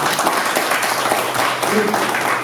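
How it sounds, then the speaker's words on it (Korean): An audience at a scholarship foundation's founding general meeting applauds to approve a motion, a dense, steady round of clapping from a sizeable crowd that fills the room for the whole stretch, with voices mixed faintly underneath. "찬성은 박수로 네, 찬성해 주시면 박수 쳐주고"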